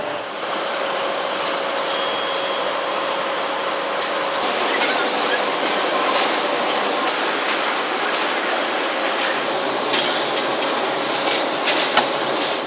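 Matchstick factory machines rapidly dipping and sorting thousands of matchsticks, a steady dense clatter of mechanical rattling and tapping that runs continuously with a faint tonal hum throughout.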